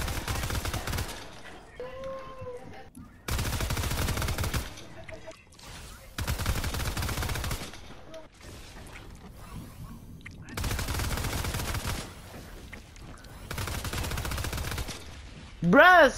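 Video game gunfire comes in several loud, sustained bursts of rapid shots, separated by quieter gaps with game sounds and brief voice-like tones.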